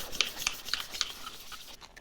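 Sandpaper rubbed by hand over chrome-coated trim parts of a 1967 Plymouth Fury: quick, close scratchy strokes repeat in an uneven rhythm for about two seconds with no talk.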